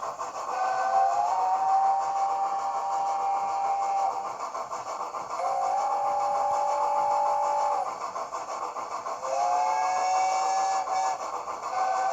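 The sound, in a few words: model steam train whistles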